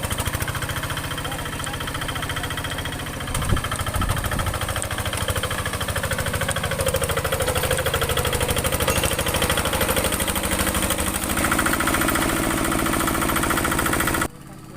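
A hand tractor engine plowing a muddy rice paddy runs steadily and loudly throughout, with a continuous mechanical drone and knocking vibration, then cuts off abruptly near the end.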